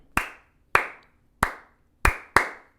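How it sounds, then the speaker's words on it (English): Five sharp hand claps ring out alone in a simple uneven rhythm, the last two coming close together, each crisp and near with a short room decay. "Like, can you clap this rhythm?"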